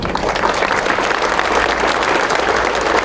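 Steady, dense applause from an audience at a Turkish public gathering, loud and continuous throughout with no break.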